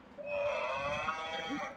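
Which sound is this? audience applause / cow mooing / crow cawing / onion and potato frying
cow mooing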